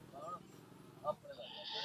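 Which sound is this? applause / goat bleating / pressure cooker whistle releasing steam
goat bleating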